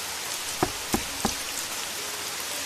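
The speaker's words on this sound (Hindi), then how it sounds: "एक बारिश वाली रात" Steady rain falling at night, a dense even hiss close by with three sharp drips or knocks early on.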